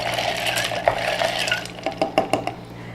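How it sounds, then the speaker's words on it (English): Ice cubes clink against the sides of a pitcher as a spoon stirs infused organic lemonade, giving a handful of close, bright knocks that grow into a quick series near the end. "I'm going to give that a stir"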